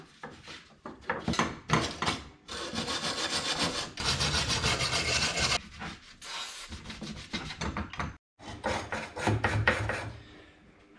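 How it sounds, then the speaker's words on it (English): A wire brush scrubs surface rust off parts from a rusted 1951 Chevy window track, giving loud, close, raspy strokes in bursts with short pauses, no talking. "I'm just giving these a bit of a clean and a bit of a wire brush just to get any sort of surface rust and stuff off them."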